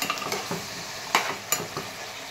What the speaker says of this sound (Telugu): ఇలా మటన్ వేసి కొంచెం మిక్స్ చేసేసుకోండి